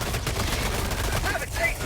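Rapid gunfire from the SMG-37 Defender submachine gun in the shooter game Helldivers 2, a loud, continuous burst of punchy shots filling the whole two seconds.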